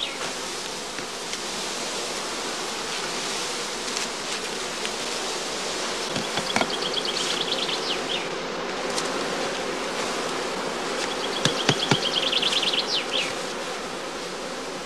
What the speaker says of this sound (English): Second swarm bees are also filled into skeps containing old comb without honey or brood.